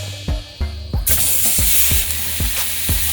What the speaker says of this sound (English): when you put a steak down, you gotta hear that sizzle, baby. That sizzle. Let's hear it.